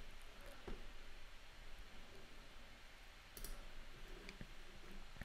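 Computer mouse clicks as anchor points are added along a path in Adobe Illustrator, a few sharp isolated clicks spaced seconds apart, quiet and close over a low hiss.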